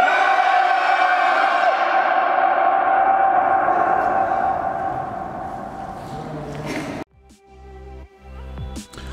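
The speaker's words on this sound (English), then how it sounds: "the echoing of that scream that we all did just then" A loud, sustained group scream rings out inside the disused Mayfield railway station in Manchester, slowly decaying in a long reverberant tail, followed by scattered voices and clatter in the large echoing space.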